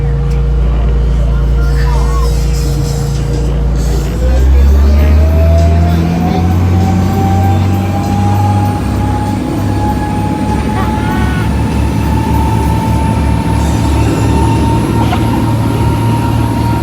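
A dolphin-watching boat's engine speeds up from idle to cruising, a loud low drone whose pitch rises steadily and then holds, heard close and continuous with water and wind noise around it.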